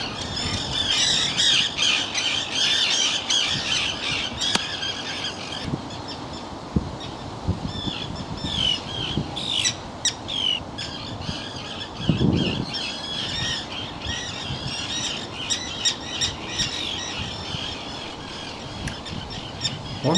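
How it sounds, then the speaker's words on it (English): Black-headed gulls and common terns on the River Lagan give harsh, overlapping squawks and shrill calls almost without pause, loud and close, with no voices. "you could hear the calls of the black-headed gull and the terns"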